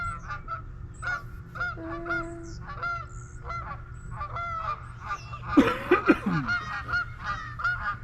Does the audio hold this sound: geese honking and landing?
yes